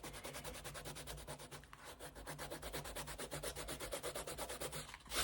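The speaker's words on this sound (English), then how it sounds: "So don't rub hard, just rub the surface" Steady rubbing on the surface of an art journal page to lift off white paint, a continuous dry scratchy swishing with fast regular back-and-forth strokes, close and fairly loud throughout with no talking.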